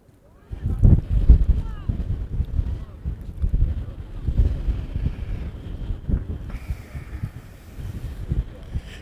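Gusty wind buffets an outdoor microphone at a girls' varsity high school soccer match, a continuous low rumbling roar that swells and eases throughout, with faint crowd and voice activity underneath.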